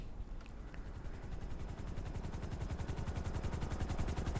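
Helicopter in the video game Grand Theft Auto, a steady rapid rotor chop that grows slightly louder across the clip, with a brief higher click near the start and no talk.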